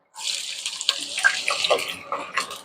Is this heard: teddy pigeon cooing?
no